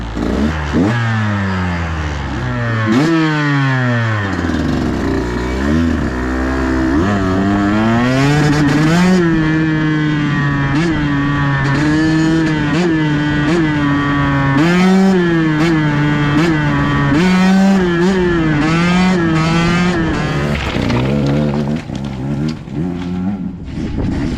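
A freshly jetted motorcycle rides down the road, its engine loud and close with repeated rising revs through gear changes, then holding a steady droning pitch before easing off.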